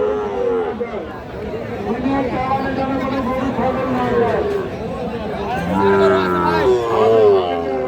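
Shahiwal cattle low at a busy livestock market, long moos rising over constant crowd chatter and nearby voices talking throughout.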